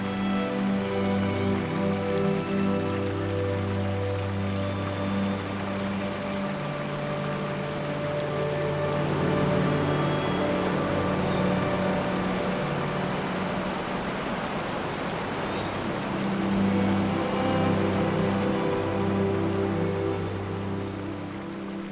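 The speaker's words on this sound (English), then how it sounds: "next to a river that flows several times into small waterfalls" An alpine mountain river in summer Tirol spills down through a series of small waterfalls beside iron stairs and scaffolding, giving a steady, full rushing wash that holds at an even level for the whole stretch with no voices.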